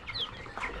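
Chickens on a poultry farm housing around 200 birds cluck softly at a distance, a faint continuous murmur of fowl with no talk.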